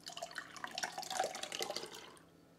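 Milk and sour cream pour into a measuring cup, a soft, close, continuous liquid trickle and splash lasting about two seconds before fading to quiet.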